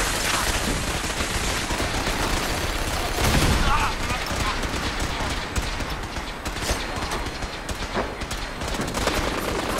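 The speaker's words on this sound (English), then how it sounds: "I'm getting shot by 20 things at once here" Enemy gunfire erupts in the video game Fallout 4, dense rapid shots and bursts crackling continuously with a louder volley near the middle, a busy combat din that fills the whole stretch.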